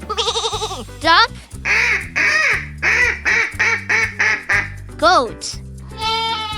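A duck quacks repeatedly in a rapid string of short, nasal calls, close and loud, over happy background music, with brief sung voice notes at the start and end.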